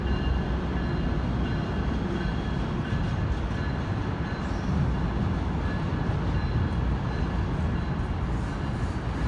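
A train rolls steadily past on the railway in Sacramento, California, a loud, continuous rumble of wheels and cars holding for several seconds without letup.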